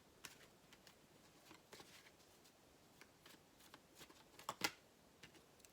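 Tarot cards shuffled softly up close, a quiet run of riffling and light taps with a sharper snap near the end, no talking.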